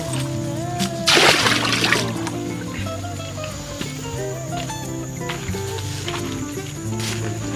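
A loud water splash near the start as water is scooped and poured for bathing in a mountain village, followed by trickling and dribbling water over a steady background hum.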